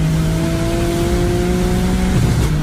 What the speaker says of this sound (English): Now we get a bump, and after them, full throttle.